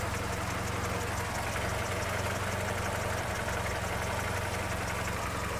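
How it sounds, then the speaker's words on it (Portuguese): A classic car engine runs steadily in a garage setting, a continuous, even idle rumble at close range, with no speech over it. "Presta atenção aí o barulhinho desse motor."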